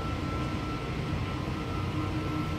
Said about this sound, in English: I'll pause and wait for the train to come back.